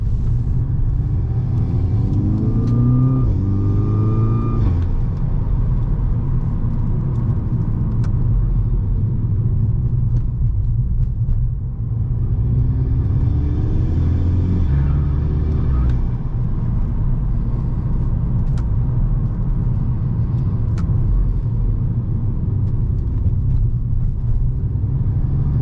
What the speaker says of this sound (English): This car makes such nice sounds when on the low RPMs